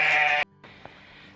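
A sheep gives one loud, close bleat inside a barn addition, followed by quiet room noise with a faint thud.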